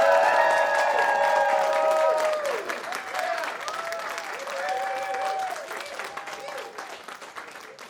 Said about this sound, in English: I'd like to hear one more time a round of applause for David Chaum